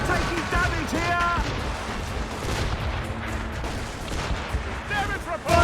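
Ship cannons fire broadsides in a naval battle in Assassin's Creed Rogue, with dense, repeated heavy booms rolling over one another and shouting voices mixed throughout.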